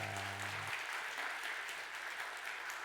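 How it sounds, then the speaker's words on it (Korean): Church congregation gives a sustained round of applause to welcome visitors at a Sunday worship service, steady dense clapping filling the room after a brief spoken lead-in. "우리 한번 환영의 박수 한번 하도록 하겠습니다"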